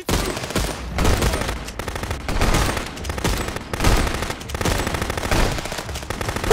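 Sustained, loud bursts of gunfire in the Contraband Police video game, with dense rapid shots continuing almost without a break and swelling in waves throughout.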